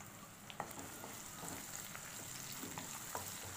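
Shallots and curry leaves sauté in oil with dried red chilli for Pallipalayam chicken fry, a faint, even sizzle broken by a few light stirring ticks.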